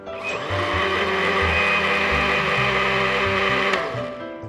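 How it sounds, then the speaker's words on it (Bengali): A blender whirs continuously as it blends litchi lemonade, a loud, steady motor drone with a rough, churning texture and slight shifts in pitch, running alone with no voices. "আমরা আরেকবার ব্লেন্ডিং করে নিচ্ছি।"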